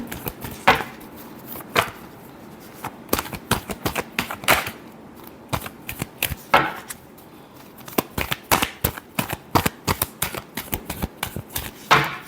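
Tarot cards being shuffled by hand, making quick clustered flicks and snaps in irregular bursts that grow denser toward the end.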